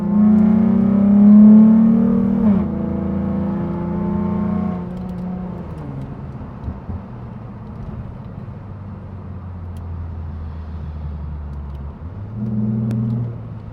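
A stage 2 tuned Ford Mustang V6 engine revs loudly and close, then drops to a lower, steadier running note before briefly climbing again near the end.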